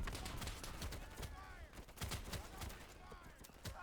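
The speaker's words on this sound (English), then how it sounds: "Where the fuck is the enemy fire coming from?" Faint, rapid gunfire from the WWII shooter Easy Red 2 during the Cassino campaign: a rattle of sharp shots from several directions, some volleys closer and punchier, with no talk.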